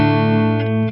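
Electric guitar on the neck pickup through a JST Toneforge Disruptor amp sim with no effects plays a loud, sustained distorted chord ringing steadily, with a light pick scrape near the end.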